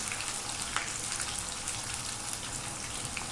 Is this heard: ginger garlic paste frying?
yes